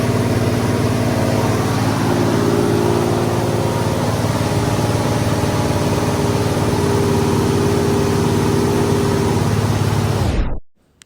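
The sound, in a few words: Ford 289 V8 engine idling too high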